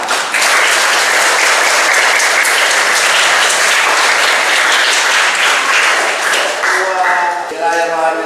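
Audience applause at a church installation ceremony for a parish station leader, dense sustained clapping filling the hall loudly and evenly before tapering slightly at the end.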